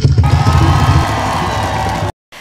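A crowd at a Madagascar government event cheers and whoops loudly with mixed shouting voices, the roar holding for about two seconds before cutting off abruptly.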